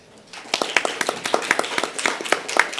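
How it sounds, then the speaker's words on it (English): Scattered, sparse clapping from a small conference audience, individual claps distinct and uneven, starting thin and picking up slightly before fading. "Round of applause, please."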